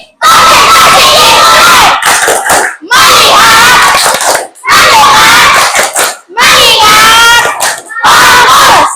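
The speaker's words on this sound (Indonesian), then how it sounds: "Sekarang kita akan tepuk konsentrasi lagi biar lebih konsentrasi." A primary school class in Indonesia chants the rhythmic 'tepuk konsentrasi' clapping routine, loud bursts of children's shouted words and claps in repeated phrases separated by short pauses.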